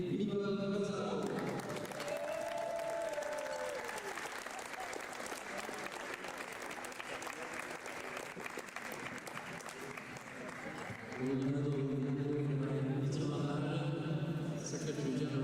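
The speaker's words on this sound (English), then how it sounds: "Give us your most beautiful applause for the winner of today, Miguel Gonzalo." A crowd at a dance competition podium gives sustained applause for the day's winner. The clapping is loud and dense over music, and a voice carries over the music near the end.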